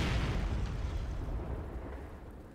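A Priest self-propelled artillery shell in a World War II video game lands with a heavy booming explosion, its deep rumble fading away over a couple of seconds.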